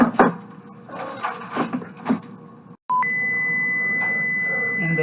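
After some clattering kitchen handling and a short silence, an electronic oven preheat-ready beep sounds, followed by a sustained steady tone.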